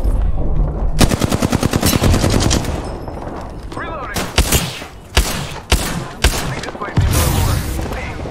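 Rapid automatic gunfire in the Apex Legends video game: a long sustained burst followed by several loud separate shots and short bursts, all close and dominant.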